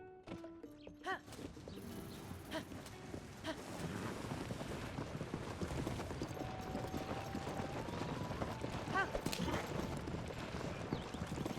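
Horse hooves galloping in Zelda: Tears of the Kingdom, a steady clip-clop rhythm running continuously under game music and ambient effects, close and moderately loud throughout.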